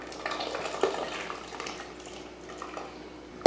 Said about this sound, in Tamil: இப்போ இதில் பருப்பு ஊற்றிடலாம்.